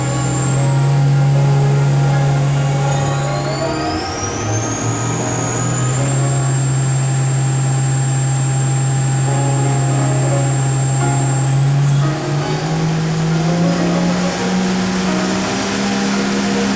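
ACER VMC-1824 CNC machining center with a Cat 40 spindle running, a loud, sustained whine and hum whose pitch shifts upward in steps as the spindle speed changes.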